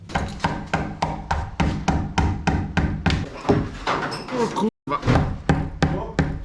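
Hammer blows drive a wall plug into brick while a garage door is being fitted, a steady run of sharp, close knocks with voices talking in the background.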